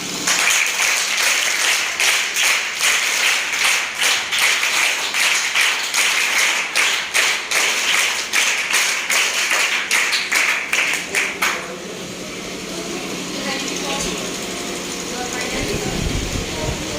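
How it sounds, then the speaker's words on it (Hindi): A school audience at an August Kranti Day event claps in a loud, rhythmic beat for about eleven seconds, then it stops abruptly and a quieter room with faint voices follows. "मैं आपके लिए तालियां बजा रहा हूं, आप भी मेरे साथ"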